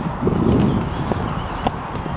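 Horse hooves clip-clop steadily along a nature trail under a rider, a continuous near, moderately loud rumble of footfalls with a few sharper knocks standing out.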